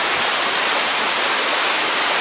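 The Uçan Su waterfall rushes in a loud, steady broadband roar, heard close by and alone.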